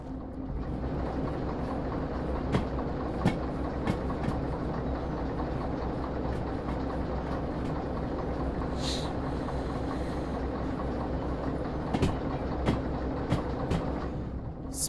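A DE2 locomotive pulls a long train in Derail Valley, giving a steady, loud rolling rumble with a low hum and periodic rail clacks, and a brief hiss partway through.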